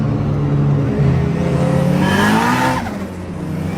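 A turbocharged Nissan CA engine revs steadily, its harmonic pitch climbing and falling as the throttle is worked, loud and close with no talk over it.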